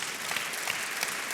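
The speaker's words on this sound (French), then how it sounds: "Et on peut l'applaudir." Audience applause at an evening mentoring awards ceremony in Lyon, a steady dense wash of many hands clapping together, moderately loud and even throughout, with no talk over it.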